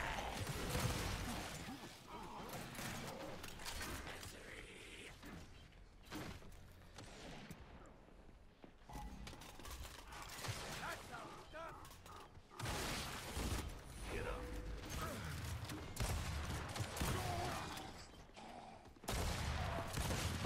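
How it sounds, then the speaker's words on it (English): Gears 5 online match gunfire, with dense bursts of shots and mechanical clatter filling the whole stretch, loud and continuous with brief drop-outs, while a player's voice talks over the game audio. "There's no way she shot me from that far with all pellets hitting."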